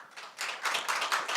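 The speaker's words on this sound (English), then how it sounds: "Let's give him a round of applause" Small audience in a sales workshop applauds a volunteer, a short burst of close, fairly loud hand clapping that swells in uneven waves over about a second and a half.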